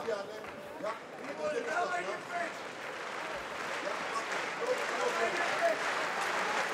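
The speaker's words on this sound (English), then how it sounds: "Crowd cheering them both on here." A crowd at an OKTAGON MMA fight event cheers and roars in the background, steady and moderately loud, while a commentator talks over it.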